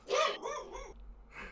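A dog barks a few times in quick succession, close and fairly loud, the yaps excited and slightly growly before a short pause and one more bark.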